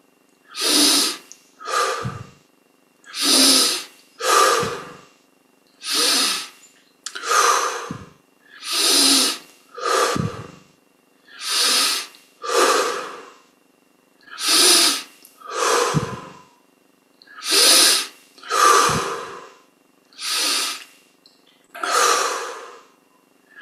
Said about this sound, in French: 20 grandes respirations maintenant.